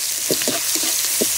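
Chopped tomatoes seasoned with crushed black pepper frying in a pan, a bright steady sizzle with a few short stirring scrapes and thumps, close and alone without speech.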